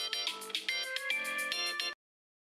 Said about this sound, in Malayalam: ഏതോ അൺനോൺ നമ്പറിൽ നിന്നൊരു കോള് വരുന്നുണ്ട്